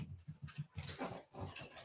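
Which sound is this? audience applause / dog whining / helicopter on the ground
dog whining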